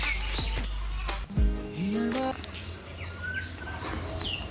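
A nanny goat bleats once, close and loud, a drawn-out wavering cry in the middle, while small birds chirp in the background of an outdoor rural yard.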